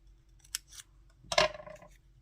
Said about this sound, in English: so let's cut it off